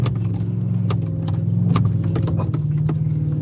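A truck rumbles fast over deep whoops on a dirt road, its steady engine drone underlaid by repeated thumps and rattles of loose gear as the suspension bangs through the dips, close and loud throughout.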